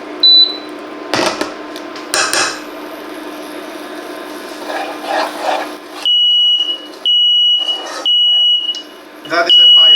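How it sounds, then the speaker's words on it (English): A smoke alarm gives repeated loud, high-pitched beeps in steady bursts, following scraping and rubbing sounds from tools on a cast aluminium pan. "That is the fire alarm"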